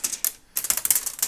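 A Microsoft Sidewinder X4 gaming keyboard with non-mechanical keys is pressed in quick bursts of bright plastic clicks, with a brief pause and then a faster run of keystrokes, close and clear.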